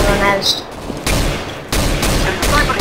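Gunfire in Counter-Strike: Global Offensive comes as several sharp bursts of shots in quick succession. They are loud and close, with a player's voice faintly present in between.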